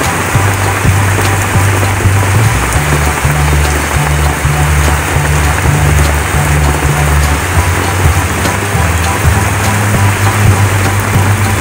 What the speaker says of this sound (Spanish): Un día como hoy, en una tarde maravillosa con esta hermosa lluvia